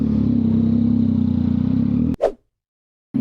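A Suzuki Hayabusa 1340cc motorcycle engine runs loud and steady at close range for about two seconds, then cuts off abruptly with a brief burst, falls silent, and starts up again at the end.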